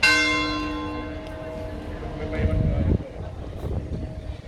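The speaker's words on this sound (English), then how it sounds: "Church bells going." Church bell at Los Cristianos church square in Tenerife, a loud struck tone that decays slowly, then a second strike, with outdoor ambience and a voice talking nearby.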